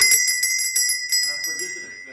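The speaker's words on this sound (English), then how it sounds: "Yes, that's the original doorbell." An original antique doorbell in an old mansion, worked by a chain pulled from outside, rings out in a quick run of bright metallic strikes that fade into a lingering ringing tone.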